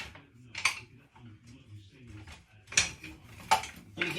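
Utensils clatter as someone rummages for a wooden spoon in a kitchen while making a squid and chorizo salad, a few sharp metallic clinks and knocks spaced apart, with a voice talking softly between them.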